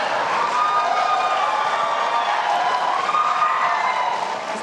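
Presidential debate audience applauding in a hall, a steady dense wash of clapping that holds at full strength for the whole stretch with no voices standing out.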